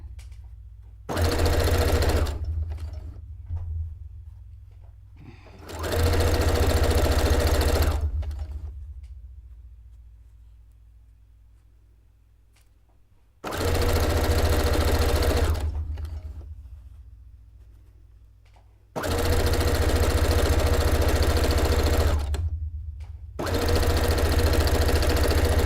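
A sewing machine stitches the finished edge of a fabric cone-shaped cape in five loud, close bursts of steady whirring, separated by quiet pauses, with no talking.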